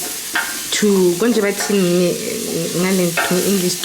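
Oxtail frying in a pot for a butter bean stew, with steady sizzling and the scrape of stirring through the pieces, loud and close for the whole stretch.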